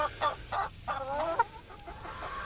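Hens in a hoop coop with a suspended roost let out a few close, distinct clucks and squawks in quick succession, followed by quieter murmuring.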